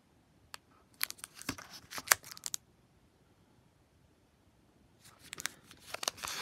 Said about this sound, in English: today we are opening 2018 Topps Gypsy Queen Baseball